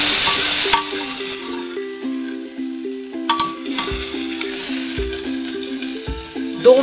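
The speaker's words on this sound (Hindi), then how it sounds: "दो मिनट इसे लाइट ब्राउन होने तक हम भूनेंगे।" Onions and cumin frying in a pan, a steady close sizzle with occasional stirring scrapes and clinks, while a melodic instrumental tune plays over it.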